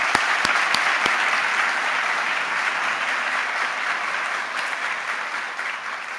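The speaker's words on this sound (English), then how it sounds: "Let's give them a round of applause, please." A crowd applauds steadily and loudly, clapping sustained throughout with a few sharp claps standing out at the start.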